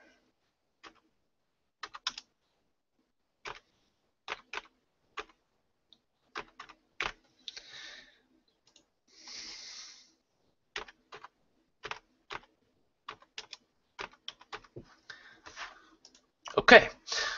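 Latitude and longitude numbers are typed into Excel on a computer keyboard: sparse, close key clicks in small bursts with pauses, growing into a quicker flurry at the end, with faint voice sounds in between.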